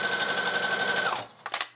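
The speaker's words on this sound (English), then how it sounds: "we're gonna head over to the sewing machine and baste it on" Sewing machine running a long straight basting stitch through blazer fabric, a rapid steady mechanical chatter for about a second before stopping, followed by a few quick clicks and taps.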